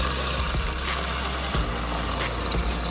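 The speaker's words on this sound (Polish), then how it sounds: "zalewamy zimną wodą." Cold water rushes from a tap over freshly cooked fries in a large pot, a steady splashing pour with a few soft knocks, close and without talk.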